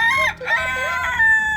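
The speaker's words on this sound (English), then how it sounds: "Can you do a crow? A rooster." A rooster gives one loud, close crow, a brief wavering call that fills the moment with no voices over it.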